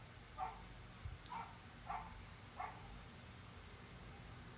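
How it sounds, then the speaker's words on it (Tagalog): Dogs barking outside, four faint, distant barks spaced roughly evenly over a low background rumble. "Ingay ng mga aso sa labas."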